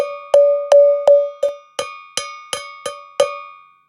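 Ten bright metallic cowbell strikes from a Cowbells Complete software plugin ring out alone in a steady rhythm, each with a clear pitched tone and short decay, the later hits sharper and brighter.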